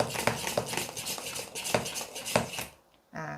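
Fresh milk hand-pumped in a milk frother for iced cappuccino foam, a run of rhythmic, close plunging splashes and clinks, roughly five strokes, ending in a short pause and a brief clatter.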